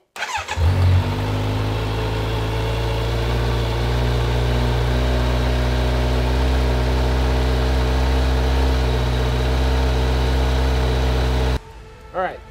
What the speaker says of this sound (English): We're gonna give it a baseline decibel test with the stock exhaust system right here in the shop.